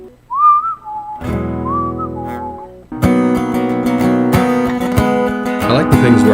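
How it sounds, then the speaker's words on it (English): Someone whistles a short, wavering melody alone while writing a song, then keeps whistling as sustained piano or keyboard chords join underneath, loud and close. "I like the things where I whistle"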